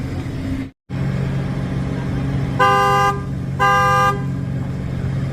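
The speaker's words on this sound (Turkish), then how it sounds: "Çift kitlemede kornamız" A 2013 Ford Focus horn honks twice in quick succession as the car double-locks, loud and close, over a steady engine idle hum.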